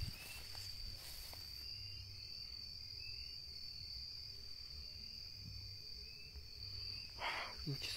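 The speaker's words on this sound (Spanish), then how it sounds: "Muchos zancudos están picando." Mosquitoes swarm along a white dirt road near Izúcar de Matamoros, mixed into a steady, faint high insect drone that runs throughout, with soft rustling near the end.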